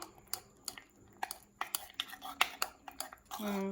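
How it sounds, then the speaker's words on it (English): Homemade organic body lotion ingredients given a quick stir, a run of rapid light clicks and taps of a utensil against a container in an uneven rhythm, close and fairly soft, ending in a short voice. "we're just going to give this a quick mix in"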